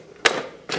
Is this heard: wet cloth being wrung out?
no